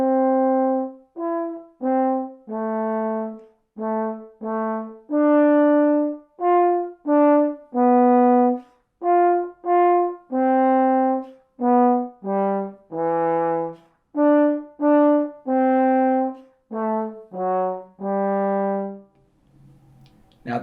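A trombone plays a harmonic sequence of downbeats from measure 24 of an Allegretto etude, a steady series of short, separated notes stepping through a repeating pattern, solo and fairly close.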